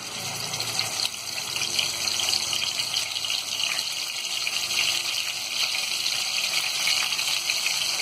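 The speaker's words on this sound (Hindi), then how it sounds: "अब इसमें ये मेरिनेट की हुई फिश को हम फ्राई करेंगे।" Marinated fish frying in a little oil in a kadhai for a masala fish curry gives a steady, close, broad hiss that stays even throughout with no voices.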